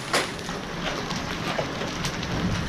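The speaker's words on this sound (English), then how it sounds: "We get hail so damn much here, this is nuts." Hail falling during a heavy hailstorm, a dense continuous patter of stones striking surfaces with a few sharper close impacts, moderately loud throughout.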